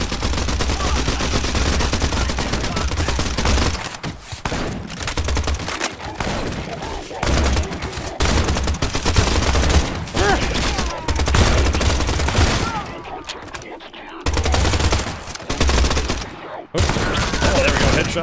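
Rapid gunfire in the video game Pioner, with dense bursts of automatic shots and fusillades running almost nonstop at close range and only brief gaps between volleys, and no talk over it.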